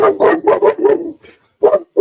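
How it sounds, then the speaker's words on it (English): Dogs bark in a rapid run of loud, close barks, then a short pause before another bark or two rings out. "Now my dogs are going off."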